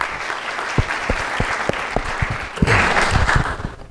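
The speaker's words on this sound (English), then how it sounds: "Let's give him another round of applause." An audience applauds at an AI workforce conference in Birmingham, loud sharp individual claps rising into a fuller round of clapping with some cheering near the end.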